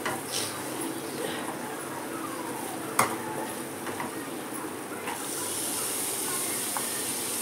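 Soaked chana dal tipped into cooked onion-tomato masala in hot oil, giving a steady broadband sizzle and hiss with a sharp clatter partway through, the frying brightening and intensifying toward the end.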